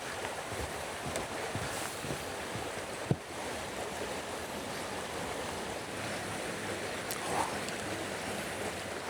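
The Scottish River Tyne rushes under a small stone bridge at East Linton, a steady broadband wash of flowing water with light wind buffeting on the microphone and one brief knock.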